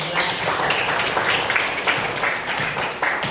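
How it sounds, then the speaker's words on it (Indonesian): A classroom full of chemistry students claps together for student number 11, a dense, steady burst of applause lasting a few seconds at close range, with no talking over it. "boleh tepuk tangan lagi untuk 11"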